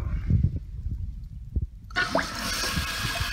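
Toilet tank refilling after the water is turned back on, a low gurgle giving way to a steady rushing hiss of water filling, close by.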